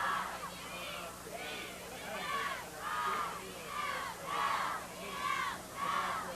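Somerville Highlander cheerleaders chant rhythmically at a high school football game against Medford, about six evenly spaced shouted cheers rising and falling from a distance under crowd noise.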